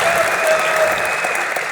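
An audience at an EVE Online fan convention applauds, giving a steady, dense wash of clapping throughout a short burst.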